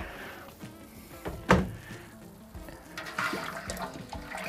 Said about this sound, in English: They tell you to pour in 500 ml of hot water